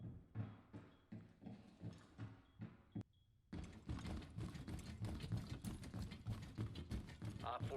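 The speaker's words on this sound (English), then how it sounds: "it would be way easier to hear Tachanka sprinting down a hallway" Rapid, heavy sprinting footsteps of Tachanka running down a hallway in Rainbow Six Siege, a steady run of thumping steps that pauses briefly, then resumes louder and denser with faint talk underneath.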